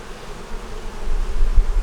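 Bees buzz inside a hive in a close, steady drone that swells slightly louder toward the end, with no voices.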